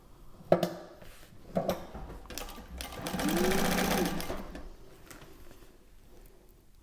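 A Thor GE 0617C sewing machine with overly tight bobbin tension, heard as a couple of clicks followed by a brief whirring run of stitching, close by, with a person speaking softly nearby.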